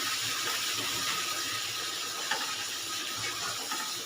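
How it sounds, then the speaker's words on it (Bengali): Water pours steadily into a bowl while jackfruit kebab gravy is being cooked, a continuous close splashing rush with no talk. "একটু বাটিতে জল দিচ্ছি অল্প করে"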